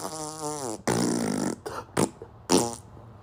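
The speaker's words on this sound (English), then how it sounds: "I come on here to laugh at farts." Fart noises from a TikTok post: a long, buzzing, tonal blast at the start, then several shorter sputtering bursts, loud and close, with no talking over them.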